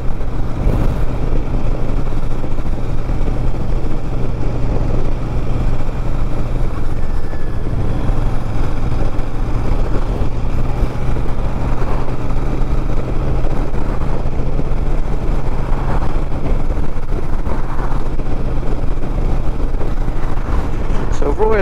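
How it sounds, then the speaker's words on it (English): Royal Enfield Super Meteor 650 motorcycle cruising in fourth gear at about 40 mph, a steady low engine drone throughout, mixed with heavy wind rush across the microphone. "Chugging along at 40 miles an hour, fourth gear, very pleasant, very nice."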